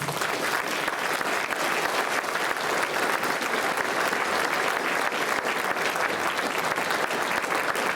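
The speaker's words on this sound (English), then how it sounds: "let's give all of these students a round of applause." Audience clapping steadily at a school spring band concert, a dense, even round of applause filling the hall with no speech over it.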